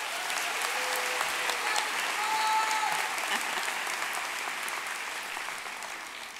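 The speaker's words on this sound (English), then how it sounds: "Another round of applause, please." A large crowd applauds steadily at a Florida Atlantic University spring commencement ceremony, a broad, sustained wash of clapping filling the hall and tapering off gradually near the end.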